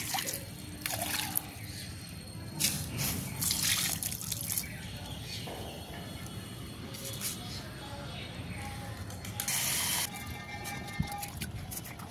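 Water trickles and drips onto already damp soil in plant pots, poured a little at a time. A soft, steady dribble carries on throughout, with occasional splashy bursts.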